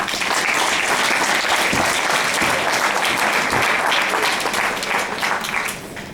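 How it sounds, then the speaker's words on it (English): Sustained dense applause from an audience at a mayoral candidates' forum, loud and steady throughout before easing off in the last second. "Let's give the candidates a round of applause."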